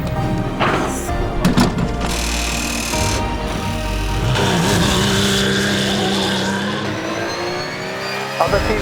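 Race cars on a track roar and rev, with engines rising and passing close by in a continuous loud drone. Radio voices talk over the noise.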